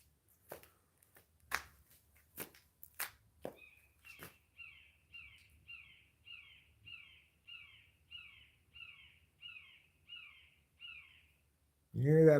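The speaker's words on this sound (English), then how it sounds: "You hear that bird?" A bird calls in a steady run of about eleven evenly spaced, fairly bright repeated notes, with a few sharp clicks and knocks just before and a loud burst at the very end.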